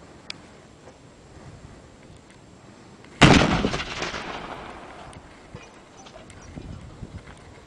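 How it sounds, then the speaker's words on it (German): A camping gas canister thrown into a fire bursts with a single sudden loud blast that rumbles and decays over a couple of seconds, set against quiet outdoor background noise with no talking. "wo eine Campinggaskartusche einfach mal in ein Feuer geworfen wurde. Und da kann man auch mal sehen, was diese Explosion für eine Effektivität hat."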